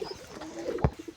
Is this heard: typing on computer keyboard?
no